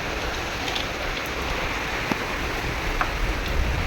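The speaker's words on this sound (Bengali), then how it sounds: "খুব জোর বৃষ্টি হচ্ছে।" Heavy rain pouring down steadily, a dense loud wash of drops on surfaces with a few sharper splashes and no voices.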